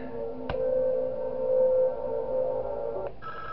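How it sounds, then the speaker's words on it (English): In the Five Nights at Wario's horror game, a telephone rings with a sustained buzzing tone that starts with a sharp click, holds for about two and a half seconds, then cuts off with another click. "And hey, we get another phone call."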